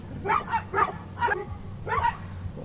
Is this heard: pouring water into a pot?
no